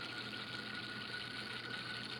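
Water pours steadily into a container, a soft continuous rush with a faint gushing texture, quiet and close, during a homemade structured-water cascade setup.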